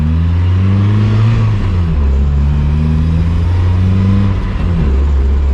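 A K24 engine in a K-swapped Mazda Miata MX-5 drives along, loud and close from inside the car, its drone rising and falling with throttle in steady surges.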